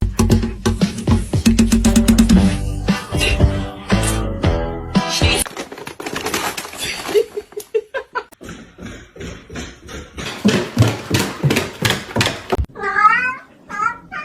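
A cat stuck in the floor meows amid a loud mix of music and other sounds, with several rising, wavering calls standing out near the end.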